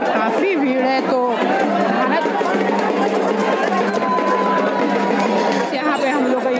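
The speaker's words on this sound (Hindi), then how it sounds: "और यार भीड़ पूछो मत, कमाल की भीड़ है।" Dense pilgrimage crowd at a river ghat on the walk from Seorapuli to Tarkeshwar, loud overlapping chatter and shouting voices close by, continuous with no pause.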